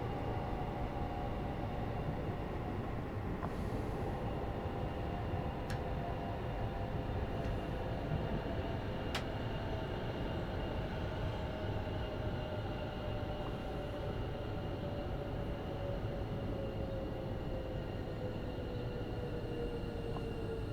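A Train Sim World 5 train braking into Hatch End station on the West Coast Main Line, a steady loud rumble of wheels with a long high brake squeal, continuous and close throughout.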